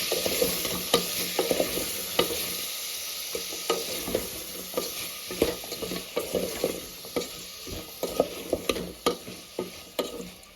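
A spoon stirs bottle gourd dal in a pot after salt and turmeric go in, giving steady scraping strokes with a light sizzle running underneath, close up and with no voices.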